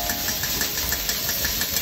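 Garlic frying in hot oil in a pan for a home-cooked sauté of bottle gourd with mixed seafood, a steady, close hiss and crackle of sizzling that runs the whole time with no talking.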